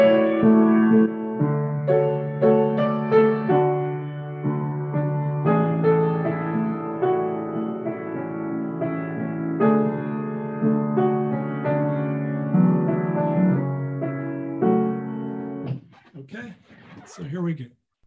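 Voices sing together in a recorded choral ensemble number, with sustained harmonies, then the music fades and a brief spoken voice follows.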